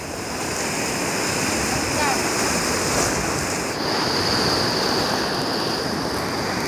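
Sea waves wash steadily onto a beach during shore fishing, making a continuous loud roar of surf with a bright hiss that shifts slightly partway through, with no clear talk over it.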